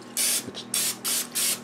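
Cooking spray from an aerosol can misted onto a cake pan for pound cake, in three close, loud hissing bursts of roughly half a second each, separated by short pauses.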